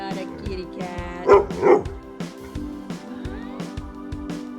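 A pet dog lets out two short, close barks and a few softer yips at home, while a person talks to it in a playful voice.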